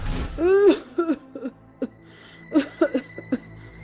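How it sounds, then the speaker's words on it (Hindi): A voice gasps and then lets out a string of short, hoarse coughs and throat-clearing bursts, close by and uneven. "फुटपाथ पर बैठी बुढ़िया खांस रही होती है"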